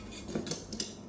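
Plates and cutlery clink and clatter in a hotel apartment kitchen at ATS Cameron Hotel in Tanah Rata, a few close, light knocks of dishes being handled, with no talking.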